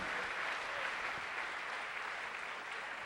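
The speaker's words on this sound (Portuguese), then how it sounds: "Aplauda ao Senhor bem forte" A church congregation applauds together during a worship service, producing a steady, even wash of clapping that holds for the whole stretch. It sounds somewhat distant and moderately quiet, with no clear voices above it.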